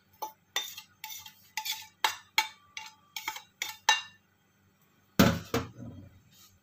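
A utensil scrapes and clanks in a pan while mixing cabbage, carrot, spring onion and fish balls for a fish-ball egg martabak, about a dozen short, evenly spaced knocks followed by one louder clatter.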